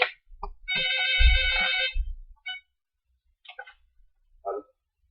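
A telephone rings with a bright electronic tone through a long buzzing burst during a recorded Spanish-language church sermon, followed by a few short, quieter chirps amid near silence.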